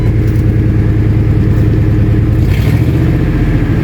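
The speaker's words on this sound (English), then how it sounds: "Huge exhaust leak, but" A Ford F250 pickup engine with a large exhaust leak runs steadily up close, giving a loud, continuous low rumble and rough drone throughout, with no talking.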